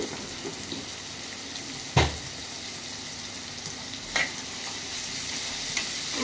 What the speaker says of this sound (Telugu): బాగా ఫ్రై కావాలి, బ్రౌన్ కలర్